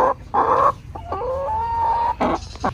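A turkey clucks close by, a few quick calls followed by a drawn-out warbling note and another short burst.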